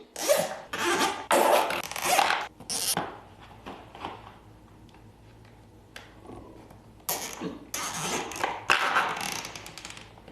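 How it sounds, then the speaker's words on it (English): Plastic zip ties are pulled tight through a lid and box in quick ratcheting zips, coming in close, loud bursts separated by short pauses. "Now I'm going to go ahead and zip tie all these."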